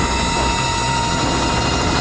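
A helicopter hovering close to a flyer drifting under a cluster of balloons gives a continuous, loud, even rotor and engine drone with a steady hum and no talking.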